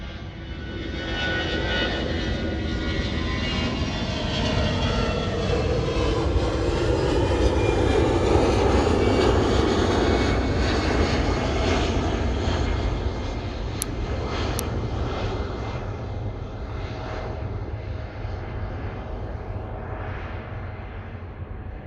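A Lufthansa CityLine airliner taking off at Munich airport, its engine roar building to a broad, loud peak before slowly fading into the distance, with no talking.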